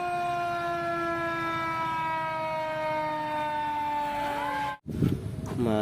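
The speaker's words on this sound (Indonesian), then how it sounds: "lihat yang ini ternyata mobil pemadam kebakaran" A toy fire truck sounding its electronic siren, a steady sustained wail that cuts off abruptly near the end, followed briefly by clattering handling noise.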